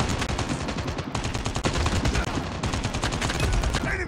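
Rapid automatic gunfire from Call of Duty Mobile, a dense, loud and continuous stream of shots in a Search and Destroy match on the Crash map, heard close with no voices over it.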